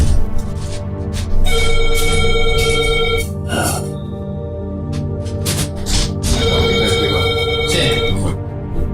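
A telephone rings loudly and repeatedly in bursts over a continuous tonal background, with a short break between rings.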